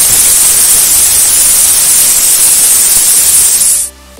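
Dried red chilli fries in hot oil, giving a loud, steady, close-up hiss that holds for about four seconds before cutting off abruptly.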